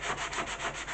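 Sandpaper rubbing over chalk-type paint in steady back-and-forth strokes, a close, continuous gritty scraping with a regular rhythm and no voices.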